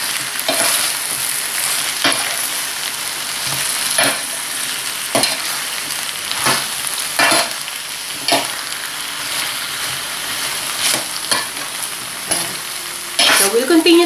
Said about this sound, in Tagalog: So, haluin po natin ito ulit.